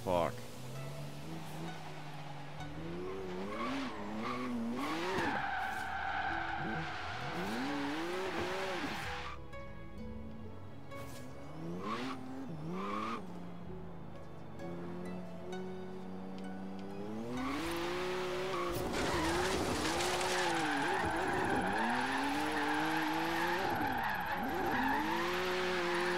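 A BMW M2 drift build in Forza Horizon 3 slides through corners, its engine revving and tires squealing in long wavering skids, loud and continuous, with someone talking over the game audio.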